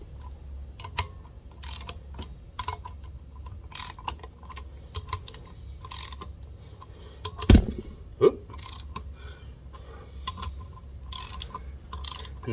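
Ratchet wrench tightening brake rotor bolts on a Yamaha XS1100 motorcycle front wheel, quiet close bursts of rapid clicking separated by short pauses, with a couple of sharper metallic knocks midway.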